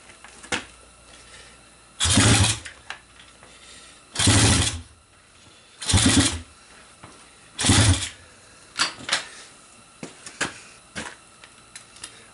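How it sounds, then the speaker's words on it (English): A 125cc SSR pit bike with a new carburetor cranks on a very cold start: four loud bursts of churning starter effort spaced about two seconds apart, followed by quieter brief sputters as it tries to fire. "so it might be flooding, but it is firing."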